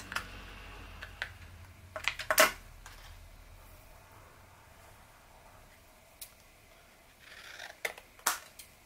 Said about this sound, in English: I'm cutting out, like cutting on the lines and getting rid of that piece